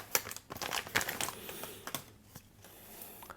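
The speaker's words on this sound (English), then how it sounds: "let's go ahead and rip this bad boy open" Ringke Fusion X phone case packaging for a Samsung Galaxy S20 Plus being ripped open, a close run of crinkling plastic and tearing bursts with sharp rustles, quieter toward the end, no talking.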